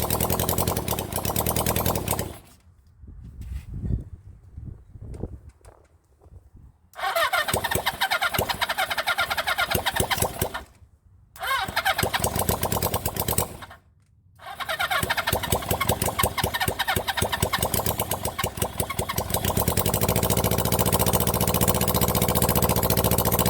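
A Honda CB400 Four motorcycle engine cranks and catches on its first start with a flooding carburettor, sputtering and cutting out a few times before settling into a loud, steady, close idle.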